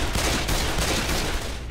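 Video game gunfire rattles in a dense, loud burst of rapid overlapping shots that fills the whole short moment.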